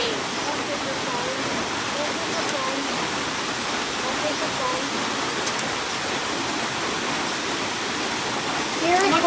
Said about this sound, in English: It's pouring and the sun's out.